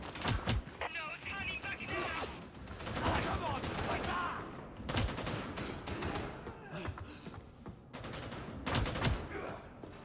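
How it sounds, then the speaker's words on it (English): Heavy machine gun fire in the Darktide video game, several loud bursts of rapid gunshots amid dense combat noise, with people talking over it. "This guy tried to shoot me with a fucking heavy machine gun."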